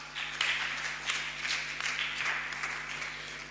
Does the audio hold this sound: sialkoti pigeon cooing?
no